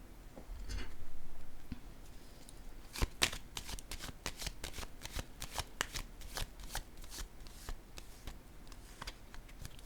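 Tarot cards being shuffled and laid down, with soft riffling, papery slides and a rapid run of crisp flicks and taps, close and fairly quiet.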